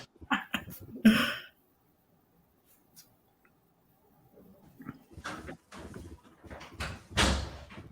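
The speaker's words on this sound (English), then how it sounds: "there's a door opening and closing" On a recording, a door closes with force in a sharp thud, preceded by clattering handling noises; after a quiet gap, further knocks and rattles follow, including a heavier bang near the end.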